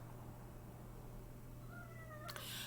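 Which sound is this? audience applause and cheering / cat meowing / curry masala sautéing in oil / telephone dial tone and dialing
cat meowing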